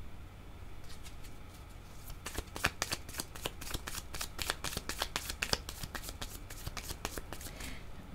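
Tarot cards are shuffled close by in a quiet room, a quick run of crisp, snapping riffles repeating rapidly for several seconds over a faint low hum.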